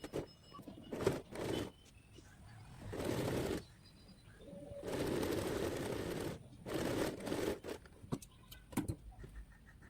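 A sewing machine stitching a V neck runs in several short bursts of whirring, stopping and starting, with scattered clicks and handling noises between runs.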